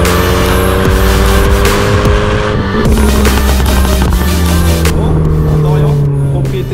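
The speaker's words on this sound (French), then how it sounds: "Ça c'est vraiment le bruit Mégane RS pur et dur quoi." Renault Mégane 2 RS with the F4RT engine revs hard as it drives past, loud and close, with pitch rising and falling through gear changes and some tyre noise under its roar.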